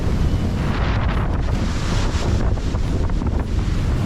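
Strong wind roars across the microphone over crashing waves and surf while sailing a small sailboat in rough weather, a continuous loud broadband rush with no pauses.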